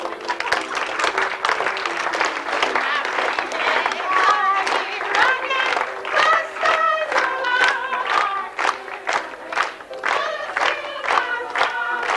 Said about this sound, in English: Everybody's gonna have to clap this.